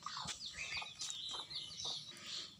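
Small bird chirping in a bird-keeping setting, a series of faint high tweets and short calls scattered over a couple of seconds, quiet and close with no voices.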